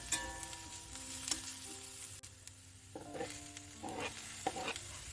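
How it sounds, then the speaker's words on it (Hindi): Cauliflower and small cut potatoes frying in a pan give a soft, steady sizzle with scraping stirs and occasional clinks, fairly quiet and close. "इसमें डाला है फूल गोभी, और छोटे-छोटे मैंने आलू कट करके रखे थे वो भी मैंने इसमें साथ में डाल दिए, और इनको मैं थोड़ी देर के लिए भूनूंगी।"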